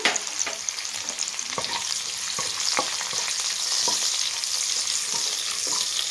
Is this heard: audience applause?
no